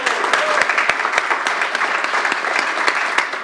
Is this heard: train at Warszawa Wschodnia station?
no